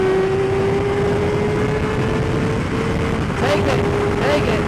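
A motorcycle engine on a rider-training cone course drones steadily and close, its low hum rising slightly under heavy wind rush throughout.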